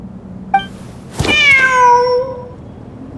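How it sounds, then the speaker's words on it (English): A cat in a video game meows once, loud and close, a long drawn-out call following a brief faint chirp, with quiet surroundings. "The cat!"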